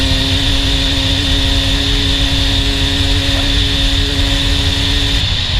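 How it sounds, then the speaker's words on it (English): A dirt bike engine held at full throttle down a straight during a Farm Jam race lap roars loud and steady with a sustained high-revving whine throughout. "Absolutely pinning the bike down the straight section."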